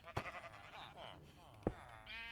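Minecraft sheep on a farm bleat in wavering cries, faint and close together, under quiet talk with sharp clicks between them.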